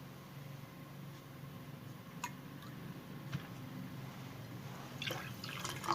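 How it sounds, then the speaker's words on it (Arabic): Water poured from a cup into a bowl holding a cup and a quarter of sugar to make a light syrup for basbousa, with faint drips and trickles that grow into a splashier pour near the end, no talk. "هحط عليهم كوباية ونص مية"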